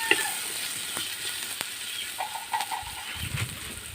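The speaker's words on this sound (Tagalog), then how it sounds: "Isahin natin yung ating red onion." Red onion sautéing in hot cooking oil, a steady crackling sizzle with light stirring scrapes and brief clinks close by.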